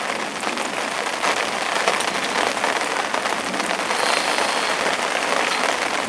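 Heavy rain pours steadily at a lake during a night-long downpour, a dense, constant hiss of drops pattering on surfaces nearby, loud and unbroken with no voices.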